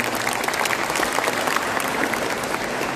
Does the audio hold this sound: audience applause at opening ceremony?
yes